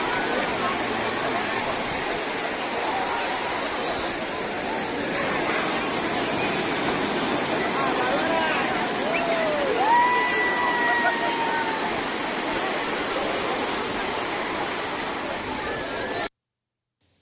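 Sea waves washing onto the beach at Puri, a steady, loud broadband roar of surf lasting throughout, with faint distant voices mixed in before it cuts off abruptly.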